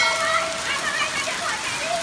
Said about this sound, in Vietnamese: Hôm nay là chiều 11 Tết và đây mưa đá này, cất cảnh đá rơi cho các bạn này.